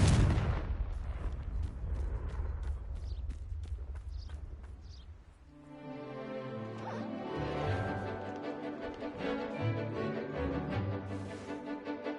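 Confringo blasting spell explosions from the Hogwarts Legacy video game, a run of sharp bursts followed by booming blasts and a long resonant rumble, loud, with no talking.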